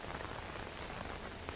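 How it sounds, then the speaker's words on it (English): Rain falls steadily in a horror video game, a dense, even patter of drops on a surface with no break or pause. "It's raining."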